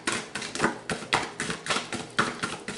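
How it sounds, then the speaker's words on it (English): Large tarot cards shuffled by hand, a rapid series of papery slaps and taps in an uneven rhythm, close and fairly loud. "trying to shuffle these big old cards"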